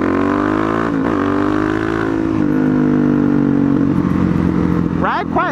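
Suzuki DRZ dual-sport motorcycle riding along, its engine droning steadily close to the mic with shifting pitch, a brief rev near the end, while a voice talks over it.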